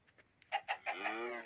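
A Minecraft chicken clucks: a few faint, quick clucks, then a louder, drawn-out, tonal call that trails off.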